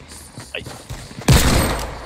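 Desert Eagle pistol shots in a video game: a few sharp, spaced reports followed by a heavier burst of gunfire with a lingering roar, close and loud.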